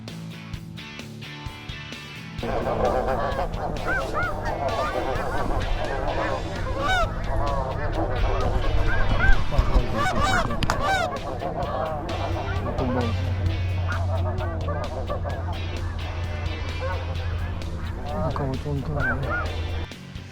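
Wild geese honk in overlapping flocks over a tidal shoreline during a goose hunt, a busy chorus of calls rising after a quiet opening and continuing throughout, with low speech underneath.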